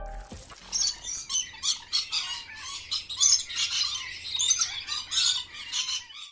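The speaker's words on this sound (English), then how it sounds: "They started attacking the snake, biting its rustling tail and pushing it off the tree branch." A pair of birds squawk harshly while attacking a snake near their nest in a tree, rapid repeated loud calls in bursts, close and without talking.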